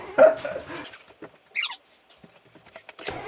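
A dog indoors barks at its own reflection in a bedroom mirror, letting out a short burst of barks at the start, followed by scattered small yips and scuffling in a fairly quiet room.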